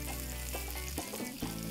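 Onions fry in a pan, a brief close sizzle with a few soft tossing movements, no talk.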